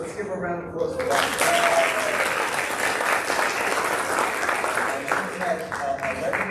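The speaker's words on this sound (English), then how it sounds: "Let's give her a round of applause for that." Steady audience clapping at a school board meeting honoring a long-serving district employee, a dense round of applause lasting several seconds, with a speaker's voice briefly audible before it starts and as it tapers off.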